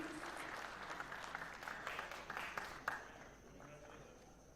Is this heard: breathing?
no